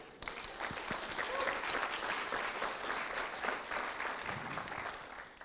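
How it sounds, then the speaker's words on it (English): Warm, sustained applause from a crowd at the 2017 International Space Camp opening ceremony in Australia, dense clapping that swells and holds steadily for several seconds, fairly close and without voices on top. "Let's give them a round of applause."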